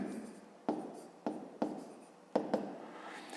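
A pen scratches across paper as a fifth-grade math solution is written out by hand, in short repeated strokes broken by brief pauses, close and fairly quiet.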